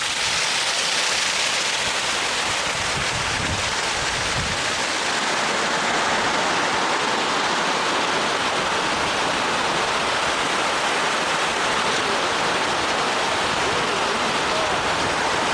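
A brook near an abandoned copper mine flows in a continuous broadband rush, steady and fairly loud throughout, with a few faint low thumps early on and no voices.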